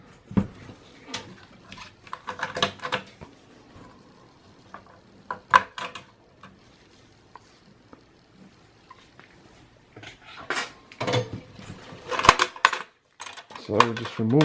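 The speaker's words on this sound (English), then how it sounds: "And remove the processor." Metal parts clinking and scraping while a processor is taken out of a Dell OptiPlex desktop, with irregular bursts of small metallic taps and rattles separated by quieter pauses, close and fairly crisp.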